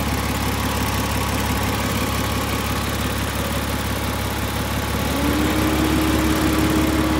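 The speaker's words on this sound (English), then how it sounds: "Fan's kicking in well" A 2000 Porsche Boxster 2.7 idles with a steady, even mechanical drone. Partway through, its cooling fan kicks in and adds a rising whir on top. Both sounds are loud and close, with no talking.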